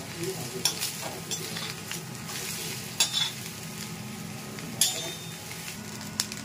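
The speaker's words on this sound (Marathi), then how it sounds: "बघू शकता खोबरं पण आपलं आता लाल होत आलंय" Grated fresh coconut frying and browning in a pan for a Malvani chicken masala, a soft continuous sizzle close by, broken by occasional scrapes and clinks of a stirring spoon against the pan.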